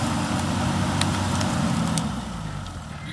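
A Toyota Hilux engine runs hard and revs while it tugs a bogged vehicle out of gorse-covered ground, giving a loud, steady low rumble that eases slightly toward the end, with faint clicks and rattles over it.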